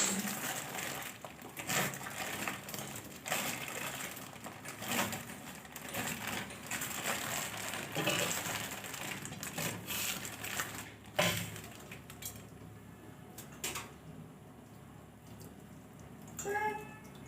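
Dry noodles are broken by hand and dropped into a pot of hot water in a home kitchen, making a run of crisp snapping and crackling bursts. The crackling is close and irregular and lasts the whole stretch, with no talk over it.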